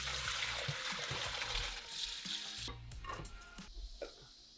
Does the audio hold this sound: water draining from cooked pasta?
yes